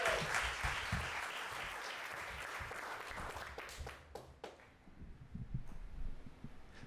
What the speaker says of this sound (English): Give a huge round of applause for our next storyteller.